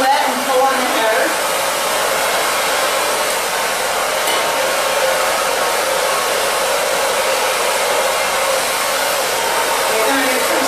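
A hair dryer blows steadily and loudly on a little girl's long hair, a continuous close whoosh with no break.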